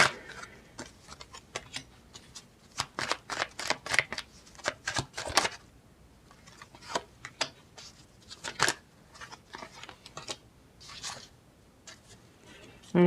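Tarot cards riffle and slap in quick bursts of crisp shuffling, pausing briefly between rounds, close and moderately quiet.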